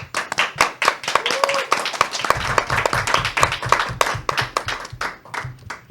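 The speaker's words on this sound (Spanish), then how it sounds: "nos despedimos con un fuerte aplauso" Sustained, dense hand clapping from an audience closes a segment of a Catholic talk program, steady and fairly loud for several seconds with a voice faintly beneath it.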